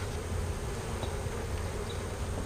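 A dense, even hum comes from honeybees in an open hive during an inspection before the colonies are combined for winter, a continuous buzzing with no talk over it.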